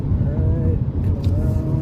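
A 2014 Ford Focus ST with its resonator deleted accelerates gently out of a turn, its exhaust a steady low rumble and drone heard from inside the car under a voice.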